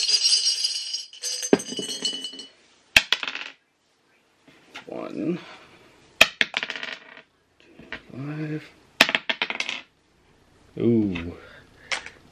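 Dice rolled onto a hard surface make a series of sharp clattering bursts spread across the clip, close and crisp, with someone talking between rolls.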